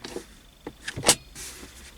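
A quiet 2022 Citroen C5 X interior with a few soft mechanical clicks and rustles, then a crisp, solid latch snap as a compartment lid shuts, followed by a faint hiss.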